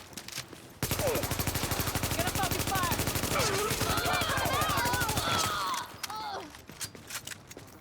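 Sustained rapid automatic gunfire in a video game runs for about five seconds, loud and continuous, with voices talking over it and scattered shots and movement sounds after it stops.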